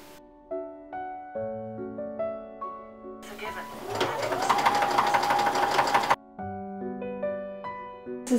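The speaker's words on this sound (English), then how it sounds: "It's time to sew along the center back." A sewing machine stitches curtain fabric along the center back seam of a 16th-century English Tudor gown, whirring steadily for about three seconds between stretches of background music.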